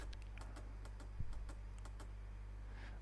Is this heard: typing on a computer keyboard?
yes